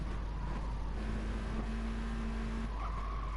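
VW Scirocco race cars circle the Brands Hatch Indy circuit in a racing video game, engines droning steadily with a held tone and faint tire squeal, no voices.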